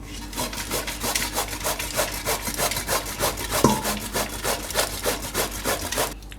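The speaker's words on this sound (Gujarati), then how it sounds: "તો દૂધી આપણે છીણી લીધી છે." Tender bottle gourd is grated by hand on a kitchen grater, giving a loud, close, rhythmic rasping of regular back-and-forth strokes that keeps going steadily for several seconds with no talk.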